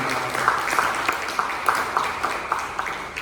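Church congregation clapping during a Sunday worship service to welcome visiting guests, a steady mid-level patter of many hands with a few sharper claps standing out, heard from within the room with no talking over it.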